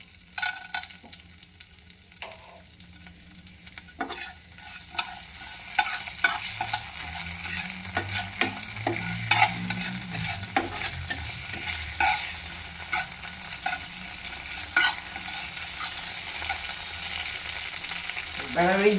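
Two bay leaves with cinnamon, cardamom, black pepper and cloves fry in hot oil for chicken masala, starting quietly and rising into a busy crackling sizzle with intermittent pops and occasional stirring scrapes, close by.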